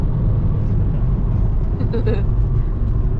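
A car driving on a road across Ukraine, a steady low engine and road rumble filling the cabin, with a voice talking over it throughout.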